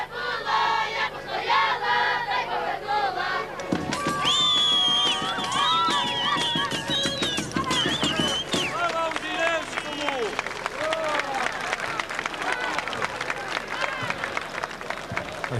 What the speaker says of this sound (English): A huge crowd is gathering to celebrate their very own army, marching through Kiev for the first time.